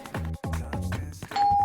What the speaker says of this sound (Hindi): कब से बेल बज रही है, खोल क्यों नहीं रहे दरवाजा?